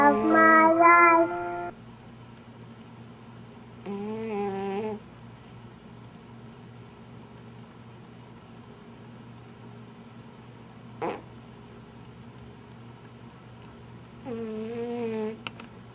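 A pet cat snoring nearby, slow drawn-out breaths with a rough, buzzing rattle, three separate snores spaced several seconds apart, alone in a quiet room with a soft background hum.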